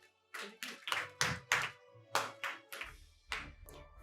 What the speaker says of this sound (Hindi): तो जोरदार तालियों के साथ स्वागत करिए